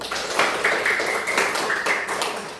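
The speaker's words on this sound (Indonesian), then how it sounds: "Kita beri tepuk tangan untuk kelompok 1." Classroom applause for a student group after their presentation, a short round of clapping with rhythmic taps from a small group, fairly close and moderately loud.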